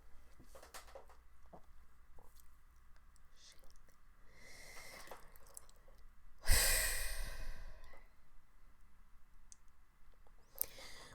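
Slow, audible breaths in a guided anxiety-relief breathing exercise, with a long, loud exhale standing out near the middle after quieter inhaling and held breath, and faint clicks around it.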